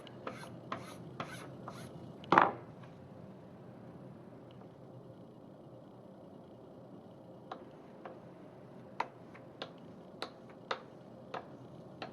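Paper being hand-rubbed onto an inked block in a registration system while making a reduction print: quiet, soft rasping strokes near the surface, broken by scattered light taps and one sharper knock.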